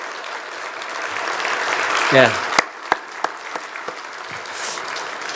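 A church congregation applauds visiting missionaries during a Sunday afternoon service, steady clapping filling the room throughout with a few sharp louder claps near the end and a short spoken word over it.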